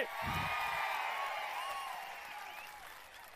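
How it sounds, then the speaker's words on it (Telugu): A crowd at an outdoor public rally claps and cheers loudly and steadily, a dense wash of applause with whoops and shouts that eases slightly toward the end. "గట్టిగా చప్పట్లు కొట్టి నిరసన తెలియజేయండి."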